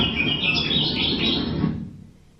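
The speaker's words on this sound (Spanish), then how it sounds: "es una especie de pájaro carpintero de Hawái" A Hawaiian woodpecker's song rings out in bright, rapid high notes, a continuous warbling phrase that fades away at the end, heard alone.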